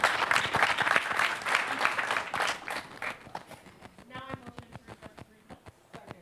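Applause in a student government senate meeting: many hands clapping at once, dense at first, then thinning into scattered individual claps as it tapers off, with a brief voice partway through.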